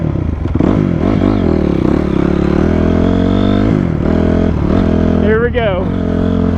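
A Honda CRF250R dirt bike engine is fired up and revved, its loud, rising and falling engine tone running throughout, with a person talking over it.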